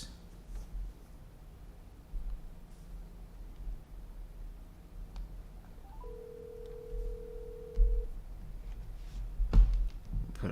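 A faint phone call tone from a phone placed on a call sounds as a steady tone for about two seconds, with a few short beeps before it, against quiet room noise and a couple of soft knocks.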